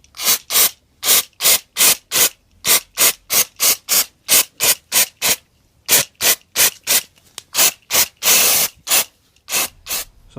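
Brake cleaner sprayed onto the brake shoes of a 1970 VW Camper Bus: a rapid series of short, loud aerosol hisses, about two dozen bursts in an uneven rhythm, close by, with one longer blast near the end.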